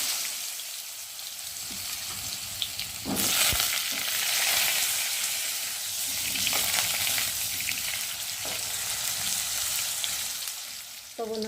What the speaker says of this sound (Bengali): এখন আমি আলুগুলো দিয়ে ভালো করে ভেজে নেব।